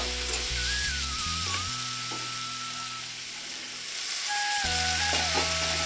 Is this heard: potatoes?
yes